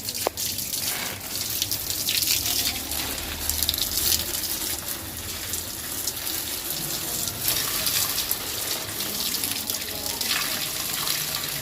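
Water running steadily onto dry potted plants and soil, a continuous gushing splash like a tap or hose, close and moderately loud, with no talk.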